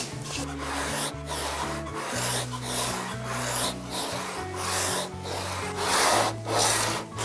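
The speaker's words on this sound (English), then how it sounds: "Go to the sandpaper block thing." Sandpaper block rubbing over the wooden body of a custom electric guitar, a steady back-and-forth rasp in repeated strokes, close and fairly loud, with background music playing underneath.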